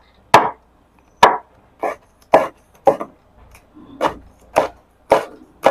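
Kaffir lime leaves chopped finely with a knife on a wooden board while preparing Isan duck larb: about eight crisp, close knocks in a steady, unhurried rhythm with short silences between them.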